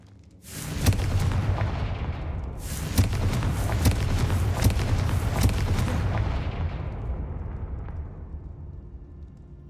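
Confringo blasting spells in Hogwarts Legacy set off heavy booming explosions, with a dense burst of impacts and crackling blasts that swells, briefly drops, resumes, then rumbles off into a fading tail.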